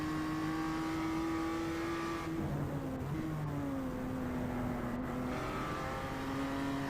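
In a sim racing video game, a race car's engine drones loudly and continuously as it starts a lap around the mountain circuit, with the pitch dropping at gear shifts and climbing again under acceleration.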